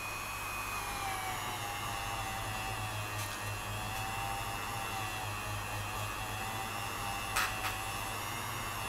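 A Dremel rotary tool runs slowly at 200 RPM while restoring an Action Force Hyena toy, giving a steady, even whirring drone with low mains hum and a couple of faint clicks.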